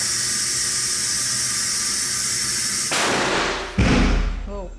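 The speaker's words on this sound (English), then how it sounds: "a model, is exposed to an explosion equivalent to the IEDs used in Iraq and Afghanistan" Blast tube test simulating a roadside IED explosion, a steady loud rushing hiss building up before a sudden deep boom and rumbling burst that then decays.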